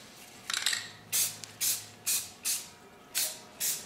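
Spray primer hissing onto a cafe racer motorcycle frame in a series of short, even bursts, about seven sharp hissing puffs with brief pauses between, close and fairly loud.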